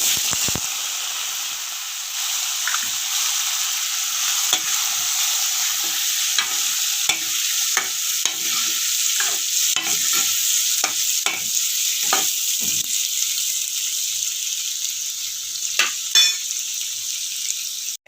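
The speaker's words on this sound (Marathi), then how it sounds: "त्याच्यामध्ये बटाटे टाकणार आहोत थोडीशी हळद टाकू आणि आपण बटाटे परतून घेऊया" Potatoes stir-frying with turmeric in a pan, a loud continuous sizzle and hiss throughout, broken by frequent sharp scrapes and knocks of a spatula, close-up.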